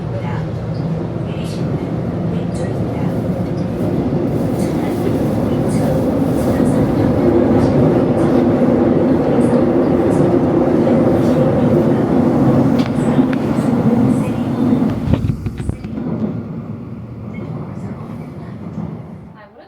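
A Seoul subway metro train rides along with a loud, steady rumble and rattling of wheels on rails for most of the ride, then slows and the noise drops away near the end.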